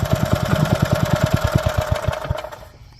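A Robin 5 hp four-stroke petrol engine with reduction shaft idles with a steady, rapid, thumping pulse, close and even, then dies away toward the end.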